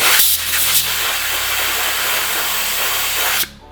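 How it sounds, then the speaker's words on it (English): Compressed air blasts through a rubber fuel line with braided lining in a car fuel-system job: a loud, steady, close hiss for about three and a half seconds that cuts off abruptly. "Compressed air. You're gonna blow out any of the chunks"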